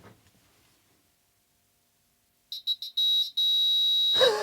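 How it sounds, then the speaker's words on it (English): A small piezo buzzer on a homemade 8-bit computer sounds at power-on with a few quick high beeps, then a sustained shrill tone after near silence, ending with a short rustle. "I'm going to remove the sticker from the little buzzer"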